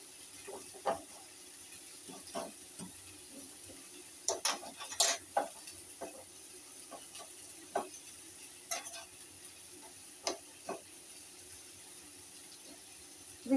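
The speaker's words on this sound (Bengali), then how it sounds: "ভালো করে এটা নেড়ে নিতে হবে।" Fish curry being stirred in a pan, with scattered scraping and clinking spoon strokes against the pan over a faint sizzle, irregular and close, no voices.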